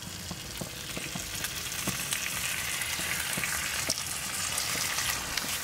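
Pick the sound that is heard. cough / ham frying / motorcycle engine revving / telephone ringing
ham frying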